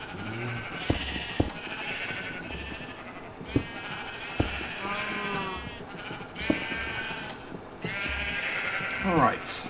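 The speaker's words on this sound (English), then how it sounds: "those sheep are really irritating" Minecraft sheep bleat repeatedly in the game world, several nasal calls spread through the stretch with a sharper, louder bleat near the end, while someone talks over them most of the time.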